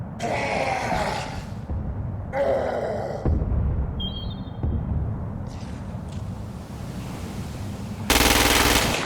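Assault rifle fire in the video game Crackdown 2 comes in several loud sustained bursts separated by short pauses, with a final heavy burst at the end.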